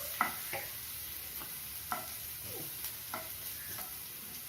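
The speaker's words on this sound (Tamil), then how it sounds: "சேர்த்து லேசாக வதக்கலாம்." Small pieces of finely chopped ginger sauté in hot oil in a pan while being stirred, for mushroom manchurian. Soft sizzling runs under scattered spoon scrapes and taps, all quiet, with no talking.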